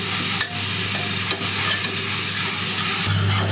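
Masala spices for a potato curry fry and sizzle steadily in hot oil, with stirring scrapes heard throughout, close and loud with no talk.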